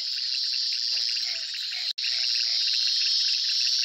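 Dense, continuous chirring of frogs croaking outdoors at night at a lagoon, with a few lower calls scattered through the chorus.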